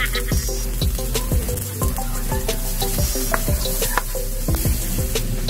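Chopped onion frying in a pan for chicken humba, giving a steady close sizzle punctuated by repeated clinks and scrapes of a utensil stirring.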